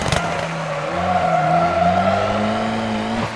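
A rally car in WRC 2 at Rally de Portugal throws a handbrake turn, tyres skidding and squealing in a long sustained slide while the engine drones steadily underneath, loud and close.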